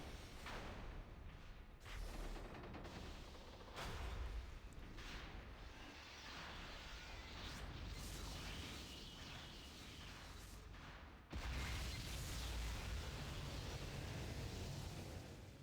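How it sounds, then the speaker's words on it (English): Booming cannon fire from a Mechanist Cannon in the role-playing game Planescape: Torment, heard as a dense, continuous roar of blasts and rumbling impacts filling the whole stretch without any voice. "Mechanist Cannon!"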